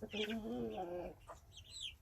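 Brahma chickens and a rooster cluck nearby in a short, fairly quiet burst of layered calls with throaty harmonics.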